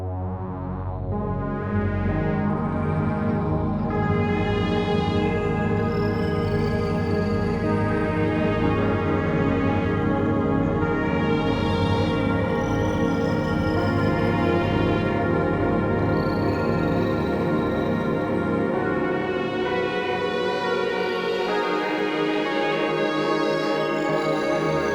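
Layered synth pad built from several sustained tones, with a resampled clanking cricket texture woven in, holding a steady, dense wash for about twenty-five seconds before thinning slightly near the end.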